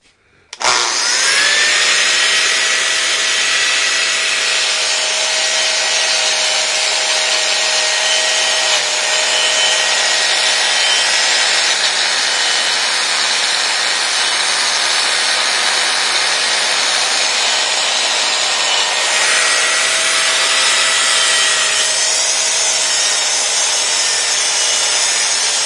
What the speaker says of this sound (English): And then I'm hitting it with this grinder.